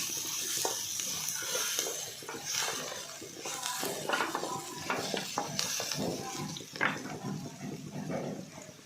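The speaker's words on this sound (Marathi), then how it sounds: "एक वाटी शेंगदाण्याचा कूट घालायचा आहे सगळा मसाला हा छान परतून घ्यायचा आहे" Masala with peanut powder being sautéed and stirred in a pan for stuffed capsicum: continuous scraping and stirring strokes over a steady sizzle, close and fairly busy.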